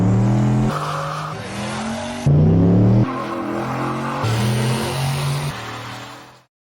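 A turbocharged GMC Sierra pickup fitted with a T6 turbo kit pulls into a shop, its engine loud and close, droning steadily and stepping up in pitch before cutting off at the end.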